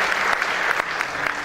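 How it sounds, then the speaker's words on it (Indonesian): Congregation in a GBI church worship service claps for God, a brief burst of lively, close, continuous applause from many hands. "Kita yang percaya kita berikan tepuk tangan sekali lagi yang meriah bagi Tuhan"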